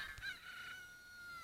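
Chickens clucking in the video game Zelda Ocarina of Time: a brief, faint electronic squawk over a steady synthetic background hum, with a short sharp sound near the start.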